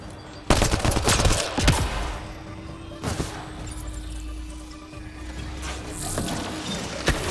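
Rapid automatic gunfire in the sci-fi shooter Mass Effect Andromeda, loud bursts of weapon fire with sharp cracks and shattering impacts, recurring in several volleys across the scene.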